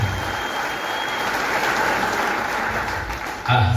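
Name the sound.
applause for the Reverend in church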